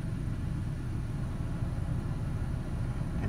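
A Ford Ranger with the HVAC on idles at a steady, close rumble, its engine speed hunting slightly with no talking over it.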